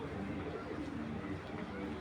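Army pigeons coo in low, muffled, continuous tones close by, with soft murmuring of people in the background.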